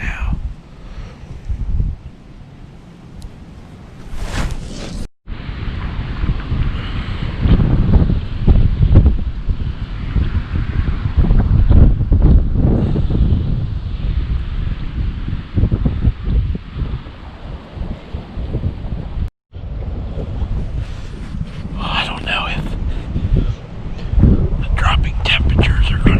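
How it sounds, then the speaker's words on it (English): Strong gusting wind from a snow squall roars across the microphone during a Pennsylvania rifle deer hunt, a loud sustained rush with brief breaks, while a person speaks quietly beneath it. "there's a snow squall blowing through right now"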